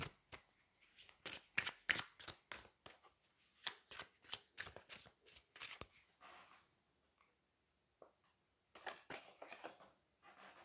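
Tarot cards shuffled and drawn close by: quick, crisp riffling snaps in a rapid run, a quieter pause with soft handling, then a final short flurry of shuffling, with no talking.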